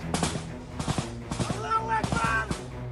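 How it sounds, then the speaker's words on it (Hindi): Bursts of rapid machine gun fire in quick clusters, sharp and close, with a voice shouting over part of it. "ये लड़ाके मशीन गन से गोलियां बरसा रही हैं"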